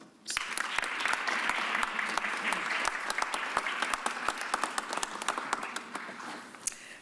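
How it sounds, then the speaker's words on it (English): Sustained crowd applause, dense steady clapping from many hands that swells quickly and continues at full strength throughout, with faint voices underneath. "I want you to give a huge round of applause."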